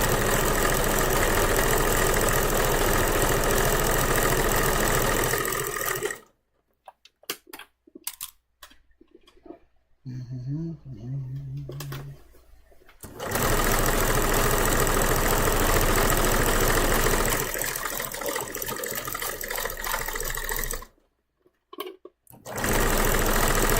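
A sewing machine stitching fabric over pins, running in long steady bursts of rapid mechanical whirring with pauses between runs, close and loud, no talk.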